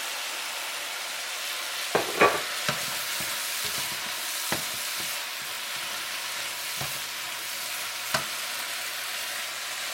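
Beef, cabbage and green onions stir-frying in a pan, a steady loud sizzle with sharp clacks of a utensil scraping and stirring at irregular moments, no voices.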